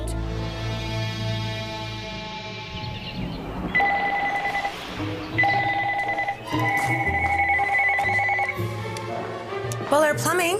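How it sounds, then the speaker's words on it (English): A loud household telephone rings insistently in a busy family home. Its shrill electronic ring repeats in regular bursts through the second half, under ongoing chatter and children's voices. "The phone doesn't stop ringing. It's constantly ringing. It's really loud as well."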